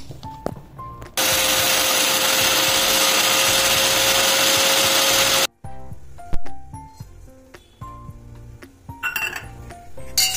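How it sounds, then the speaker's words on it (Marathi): A kitchen mixer grinder whirs loudly and steadily for about four seconds, grinding roasted coriander seeds, then stops abruptly; clinks and light knocks of the jar and lid follow. "हे भाजलेले धने थंड झाले की मिक्सरला वाटून घ्या।"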